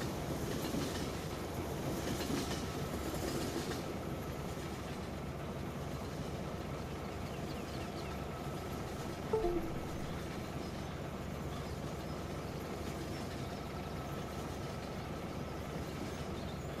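A short freight train of only a few cars rolls past in Farming Simulator 17 on a snowy abandoned forest map, with a steady rumble and rhythmic clickety-clack of wheels on rails throughout, moderately near, with no talking.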